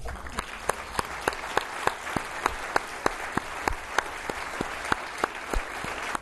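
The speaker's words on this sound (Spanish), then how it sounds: "Empecemos con un aplauso porque estamos de vuelta." Applause fills a hall at an official gathering, a steady wash of many hands with a few sharp, louder claps standing out at an irregular rhythm, moderately distant.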